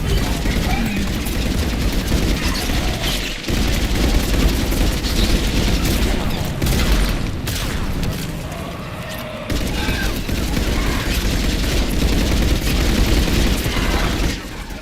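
Dense, continuous gunfire and booming blasts in the sci-fi shooter Mass Effect 3, loud and nearly unbroken with a couple of short dips in intensity, layered rattling bursts over low rumbles.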